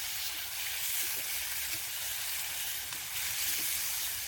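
Prawn masala frying in a pan, a soft, steady sizzle and hiss, fairly faint and continuous with no talk.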